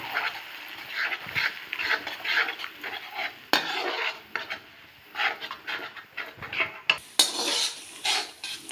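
A spoon stirs yogurt into spiced dum aloo potatoes in a pan, with steady scraping and clinking against the metal in irregular close strokes, plus a faint sizzle underneath and no talking.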